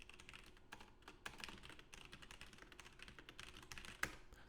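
Someone types on a computer keyboard during a programming session, a faint, quick flurry of soft key clicks with irregular rhythm and one sharper tap near the end.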